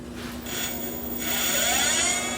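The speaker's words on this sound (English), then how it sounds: "just going to do a quick dry run on the Etrike" A motor on a homemade electric trike whirs up during a bench dry run, a steady close-up hum that rises in pitch with faint mechanical rattle underneath.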